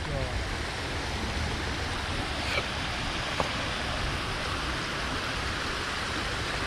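Rainwater rushes steadily through a channel on a rainy day in Phoenix, a continuous broadband wash of flowing water that stays even and fairly loud throughout, with no speech over it.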